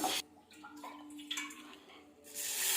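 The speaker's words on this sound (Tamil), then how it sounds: "இதில் தண்ணி ஊற்றி ஒரு அரை மணி நேரம் 3/4 மணி நேரம் ஊறட்டும்." Water pours into a vessel of roasted urad dal to soak, a short splashing stream that starts and stops in a home kitchen.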